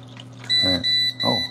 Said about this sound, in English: So it beeps at you to let you know it's full.